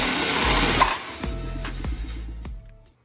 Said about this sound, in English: now you get the sawzall out